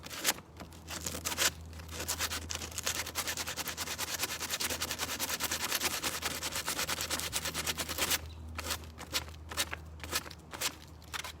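Sanding a wooden table produces a dense, steady rasping scrape that runs close and continuous, broken by sharper gritty strokes at the start and end, faint overall and without voices.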